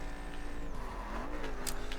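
A race car engine in the video game The Crew revs and shifts with a clear harmonic whine that rises, dips and climbs again, close and steady, with a faint squeal near the end.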